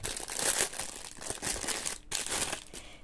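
Crinkly plastic packaging from a Temu order being torn and opened, a close, continuous rustle and crunch with short pauses, no talking.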